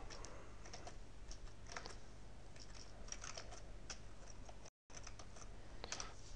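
Quiet typing on a computer keyboard while entering figures for a damped oscillation exercise, with a steady stream of soft key clicks in irregular bursts over a low hum and one brief dropout.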